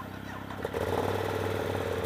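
Engine of a 2013 Triumph Speed Triple motorcycle, warmed up and running, a steady low droning hum that swells slightly after a brief shift, heard close and continuous.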